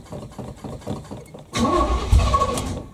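A 1981 Chevy Malibu Classic cranks on a cold start with rhythmic starter churning for about a second and a half, then the engine catches into a louder, rough, close running rumble.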